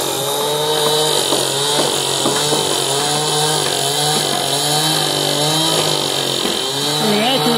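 A chainsaw cuts a timber tongue at an Amish barn raising, its engine snarling loudly and close with wavering pitch as it bites through the wood, without pause throughout.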